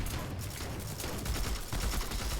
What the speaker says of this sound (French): désolé si vous m'entendez pas trop à cause de tous les tirs, mais ils adorent tirer dans le jeu